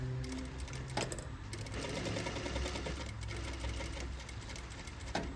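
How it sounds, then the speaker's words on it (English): A sewing machine stitches a pocket flap in a quiet room with a fast, even mechanical whir and a few brief stops and taps, heard alone at close range. "So at 1/4 of an inch, you're going to sew it."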